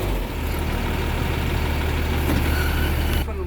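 A truck engine idles steadily, low and constant, while air brake pressure builds, with a brief change near the end.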